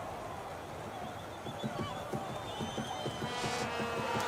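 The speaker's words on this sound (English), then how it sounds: "The crowd is going wild with joy." Fans cheer for Brazil at a marble race, a faint, distant crowd hubbub with a rhythmic patter that swells slightly toward the end.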